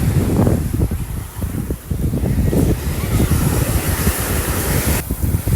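Sea waves roll onto a beach in Turkey as a loud, broad rushing wash, heavy with wind buffeting on the microphone and no clear talk.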